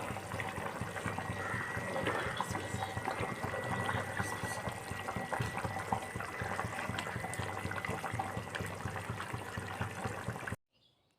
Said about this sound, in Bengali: মশলাটা ভালোভাবে কষানো হয়ে গেলে তারপর ওর মধ্যে আমরা ঝোলের জন্য পরিমাণ অনুযায়ী জল দিয়ে দেব।